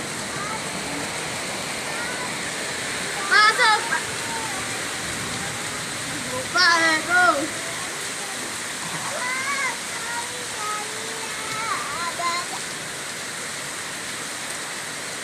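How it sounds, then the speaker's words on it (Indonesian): Heavy rain during a flood pours as a steady, dense rushing wash throughout, with voices talking briefly over it at a few points. "Itu hujan sih."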